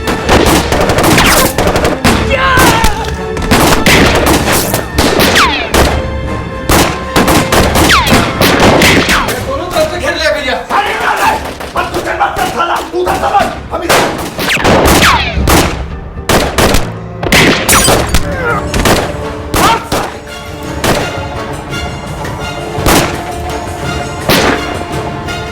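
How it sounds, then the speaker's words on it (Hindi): Loud, relentless gunfire fills the whole stretch: rapid overlapping shots and machine-gun bursts with crashes and booms, dense and close, with almost no pause. "फायरिंग कर"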